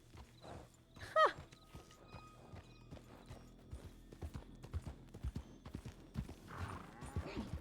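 Horse hooves clip-clopping steadily in a video game, with a sharp whinny early on and walking footsteps continuing throughout, moderately close and alone without talk.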